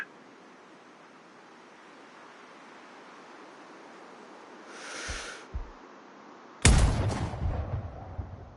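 Sniper rifle shots at a target in the game Sniper Ghost Warrior Contracts: after a long steady outdoor wind-like hiss and a couple of soft mechanical clicks, one sharp loud shot cracks out and rolls into a fading echo.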